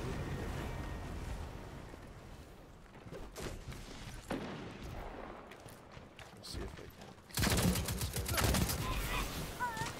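Gunfire from a special weapon in Destiny 2 Crucible multiplayer, several sharp blasts and bursts amid game effects, with a heavier loud stretch near the end, while a person talks over it.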